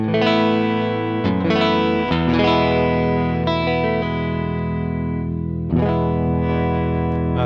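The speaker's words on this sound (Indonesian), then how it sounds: "langsung kita coba sound check dari cleannya, clean channel" Valley Arts California Pro custom electric guitar played through a clean channel during a sound check: a few strummed chords ring out and sustain, with fresh strikes every second or so, loud and alone.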